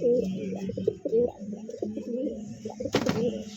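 Pigeons at a farm, including a pair of red gola pigeons, coo in rolling, overlapping throaty calls close by, followed near the end by a brief sharp clatter.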